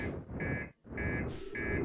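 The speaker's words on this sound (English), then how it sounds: "I wanted that stupid alarm to stop" An alarm sounding in short repeated high beeps, three evenly spaced tones over a loud continuous rushing noise.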